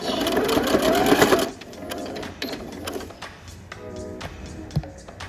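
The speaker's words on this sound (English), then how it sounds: "we're just gonna stitch all the way through and back stitch" A sewing machine stitches through denim on a dress hem, a loud steady whir that breaks off, then resumes in shorter, quieter back-stitch bursts with small clicks and thumps.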